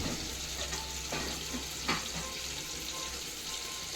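Chicken tikka cooking on a grill grate brushed with homemade ghee, a steady hissing sizzle close by with faint crackles and one brief louder pop midway.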